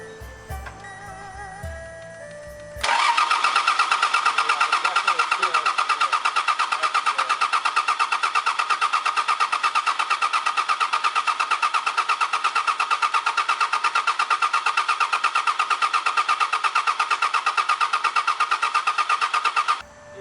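A Mazda turbo build project car cranks and fires up after some faint noise at the start, then runs at a loud, steady idle close by for about seventeen seconds before cutting off abruptly.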